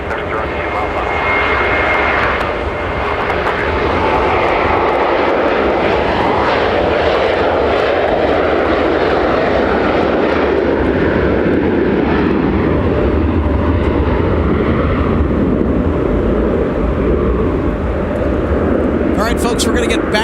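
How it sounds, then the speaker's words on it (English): A heavy jet airliner arrives at Minneapolis–St. Paul Airport in a winter storm, its engines roaring loud and steady for the whole stretch while a voice talks over it. "we're going to get back-to-back arriving heavies on runway 12 right"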